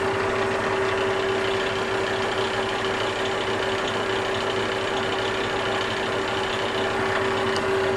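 A wood lathe spins at 1500 rpm while a burn line is pressed into a small twig vase, giving a steady, unbroken mechanical hum with a constant whine running throughout, without talk.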